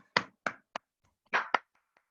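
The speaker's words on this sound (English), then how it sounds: "Clap for yourself" A student in a music lesson claps hands a handful of times, sharp, close, dry claps at an uneven pace with short gaps of silence between them and no talking.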